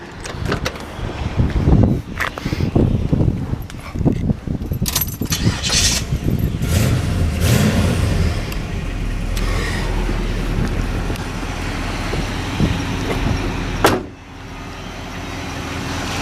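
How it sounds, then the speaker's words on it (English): A 1971 Chevrolet Monte Carlo with a new Chevrolet engine and an aluminum radiator starts up and settles into a steady, loud, close idle, with some clatter and rattling near the start and a sharp knock near the end. "Go ahead and fire it up for you."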